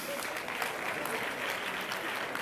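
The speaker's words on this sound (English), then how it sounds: "We can give a big applause to Franz." A crowd applauds at a party election congress, a steady wash of clapping heard from a distance at low level, even and continuous throughout.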